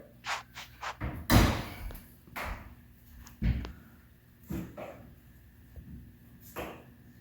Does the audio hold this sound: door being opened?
yes